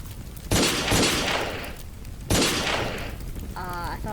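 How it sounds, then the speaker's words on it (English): A laser rifle fires in the Teardown video game: two loud, sharp blasts about two seconds apart, each trailing off in a long roaring decay, followed by a brief electronic whirr. "Laser rifle."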